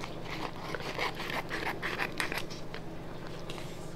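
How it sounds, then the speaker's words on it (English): Scissors snipping through a rhinestone transfer sheet, a quick series of soft crisp cuts and scrapes heard close up and fairly quiet with a steady low background hum. "Let me just cut here."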